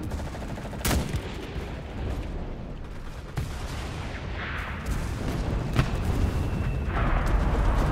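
Booming artillery fire in the WWII shooter Enlisted, a sharp heavy blast near the start and further thuds later over a rumbling battlefield din, no talking.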